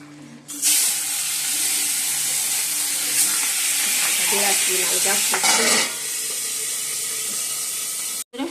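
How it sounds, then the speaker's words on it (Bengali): Fish fries in hot oil in a wok, starting with a sudden loud sizzle that holds as a steady, close hiss for several seconds before cutting off. "কড়াইতে তেল দিয়ে দিয়েছি, তেলটা গরম হয়ে গেছে। এবার মাছগুলো ভেজে নেব।"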